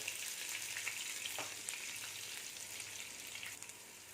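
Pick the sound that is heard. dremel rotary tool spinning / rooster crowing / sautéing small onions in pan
sautéing small onions in pan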